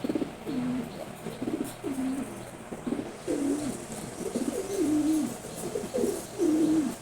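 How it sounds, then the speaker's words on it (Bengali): A red checkered pigeon coos repeatedly, low throaty rolling calls at roughly one-second intervals, close by against a soft background hum. "রেড চেকার্ড কবুতর এটা"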